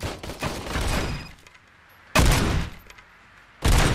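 Gunfire rings out at a shooting range in the video game RoboCop: Rogue City: loud, close bursts of rapid shots in three separate volleys, each with a reverberant tail fading into short pauses.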